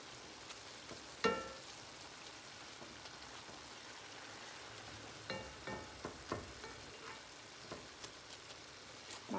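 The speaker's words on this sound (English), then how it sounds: "My dirty rice is cooking in this skillet right here, next to me." Dirty rice cooks in a skillet with a faint, steady sizzle and occasional soft pops and crackles, quiet and close with no talking.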